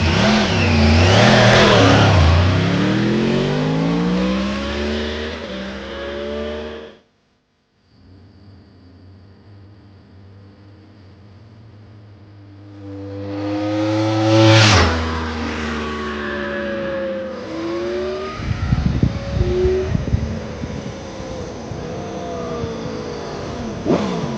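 Loud, close revving from a wrecked-and-rebuilt Yamaha R1 sport motorcycle, rising and falling repeatedly through several throttle blips, cutting out briefly near the middle before firing back up with sharp high-pitched revs.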